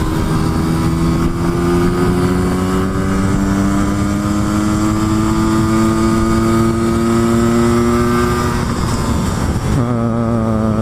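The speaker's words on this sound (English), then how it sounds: "I'm out on the motorcycles." Motorcycles ride along a green lane, a loud continuous engine drone with steady harmonics rising slowly in pitch as they accelerate, then a gear change near the end.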